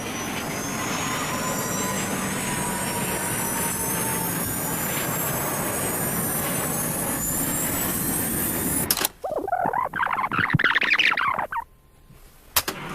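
Airbus A320 jet engines in a crash, a loud, steady roar with a rising whine that holds for about nine seconds, then cuts off abruptly to fainter, scattered sounds.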